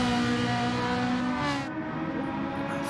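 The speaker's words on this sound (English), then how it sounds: "Changing gears at very low revs, trying to get the RPMs all the way up." Race car engine revving up through the gears on a circuit, a loud, harsh whine holding high and then dipping briefly at a gear change, with no voices.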